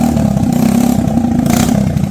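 A motorcycle decorated for the Kanwar pilgrimage runs its engine close by, giving a loud, steady, throbbing growl with slight revving and no pauses. No one speaks.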